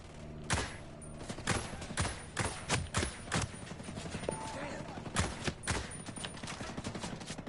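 Bursts of gunfire from the video game Ghost Recon Breakpoint crack in rapid, irregular volleys, some single shots and some clustered, loud and close amid game sounds.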